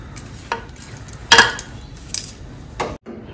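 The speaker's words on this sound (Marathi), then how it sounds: "तीळ घालूया। चांगलं मिक्स करून घ्यायचं।" Sesame seeds being mixed into chakli dough in a bowl, giving a few scattered scraping and clinking knocks of spoon against vessel, with one sharper clatter in the middle, close by and with no talking.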